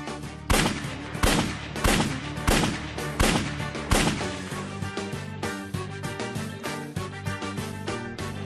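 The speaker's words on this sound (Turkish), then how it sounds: "Lan silah sesi var." Rapid, loud bursts of gunfire repeat in a steady rhythm, each crack sharp and echoing, with continuous shooting layered over a dense background.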